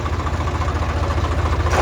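A John Deere or Swaraj farm tractor engine idles close by with a steady, loud low rumble and a fast, even throbbing pulse, with no voices.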